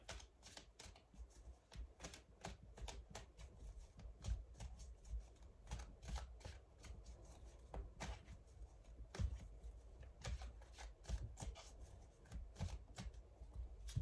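A deck of oracle cards is shuffled and cut close up, giving rapid crisp riffling flutters and sharp snaps in repeated bursts with no voice over them.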